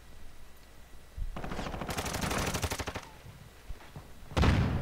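Automatic gunfire in a multiplayer first-person shooter video game, a rapid burst of shots lasting about a second and a half, with an isolated shot before it and another sharp blast at the end.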